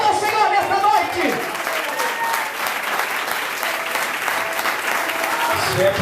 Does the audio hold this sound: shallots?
no